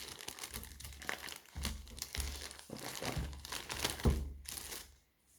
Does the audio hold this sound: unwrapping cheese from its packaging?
yes